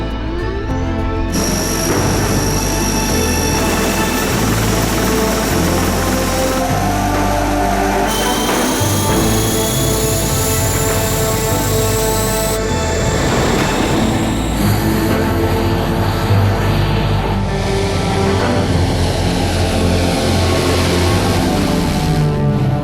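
Aircraft engines roaring at full power during takeoff, heard as a loud, steady, unbroken drone with shifting tones across the whole stretch and no voices.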